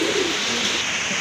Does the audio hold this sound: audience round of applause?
no